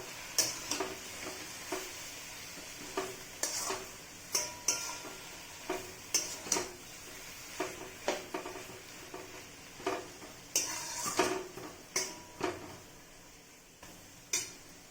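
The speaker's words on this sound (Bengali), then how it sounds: "এই ডিমটা দিয়ে আমি ভালো করে মিশিয়ে নেব।" Bottle gourd curry with fried egg stirred in a pan, a steady series of scraping spatula strokes against the pan with a soft sizzle underneath, close and fairly loud, no talking.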